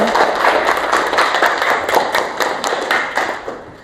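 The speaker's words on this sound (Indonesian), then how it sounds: "Oke, tepuk tangan." A classroom of students claps hands together in a quick, fairly loud rhythmic burst that fades toward the end, the claps close and crisp in an indoor room.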